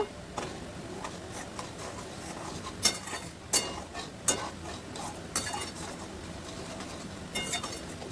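A spoon stirs spices and turmeric in a pan while Bengali shukto cooks, giving scattered sharp clinks and scrapes against the metal over a quiet background, with no speech.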